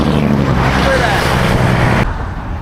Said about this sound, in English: we're literally 2 feet away from tractor trailers going 80 miles an hour on highway, Interstate 80.